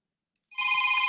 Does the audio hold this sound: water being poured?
no